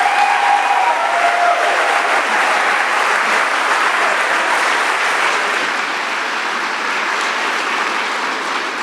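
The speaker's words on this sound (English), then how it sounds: "give her a huge round of applause and make her feel welcome" Sustained applause from an audience at a public evening event on cycling in Boston, a steady broad clatter of clapping that stays loud throughout without voices on top.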